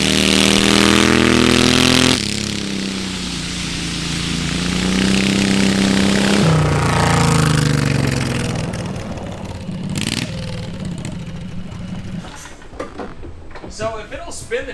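Turbocharged lawn mower engine in a VW Beetle revving hard through a burnout, loud and rough for a couple of seconds, then fading into scattered clatter, tire noise and bursts of voices.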